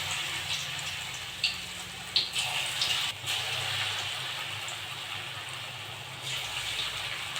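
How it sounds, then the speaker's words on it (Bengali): Drumstick leaf pakoras fry in hot white oil in a kadai over a gas flame, giving a steady, soft sizzle and bubbling hiss with a few faint clinks. "তেলটা গরম হয়ে গেছে, এবার ভেজে নেব পকোড়া।"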